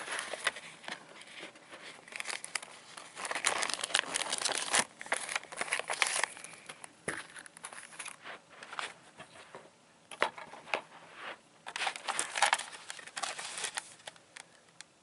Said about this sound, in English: The black one, I put inside of this envelope sleeve.